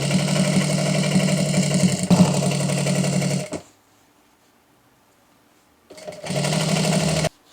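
A sewing machine stitches the side seams of a fabric Easter bunny in two close, loud bursts of fast, even whirring, the first lasting about three and a half seconds, then a quiet pause before a shorter second run.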